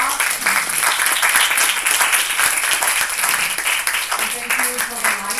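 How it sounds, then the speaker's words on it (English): Audience applause after an arts thesis panel, a dense steady wash of clapping filling the room throughout, with a voice starting to speak near the end. "Let's give a big hand of applause."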